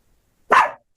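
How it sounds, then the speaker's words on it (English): A single short dog bark, loud and close, bursts out alone after a stretch of near silence, with a faint tiny chirp just after. "no barking"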